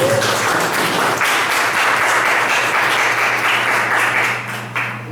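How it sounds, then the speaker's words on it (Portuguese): Church congregation applauding after a sermon reading, a dense, steady burst of many hands clapping that fills the space and begins to thin out near the end, with a low hum underneath. "Vamos aplaudir a palavra do Senhor, queridos"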